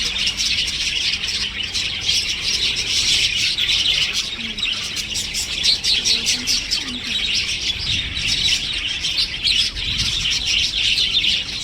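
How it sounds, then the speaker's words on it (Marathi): Many birds chirping and tweeting continuously outdoors, a dense bright chorus of overlapping calls at steady loudness with no talk. "आणि इथं पक्षी आहेत"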